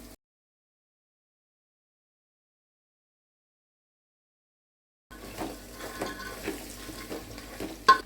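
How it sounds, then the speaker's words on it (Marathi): Spring onion greens, fenugreek leaves, fresh peas and pigeon peas being stirred in hot oil, starting after several seconds of silence, with a soft steady sizzle and spatula scrapes against the pan. "हे सर्व आता मिक्स करून आठ ते दहा मिनटं परतून घेऊया"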